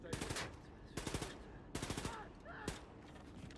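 Automatic gunfire from the video game Wolfenstein II: The New Colossus comes in four loud, rapid bursts, with sustained noise between the volleys.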